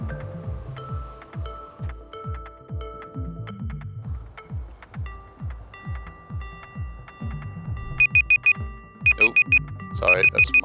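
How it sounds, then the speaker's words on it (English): A timer alarm going off: repeated high electronic beeps in short bursts near the end, following a long run of rhythmic low knocking pulses. "Sorry, that's my timer."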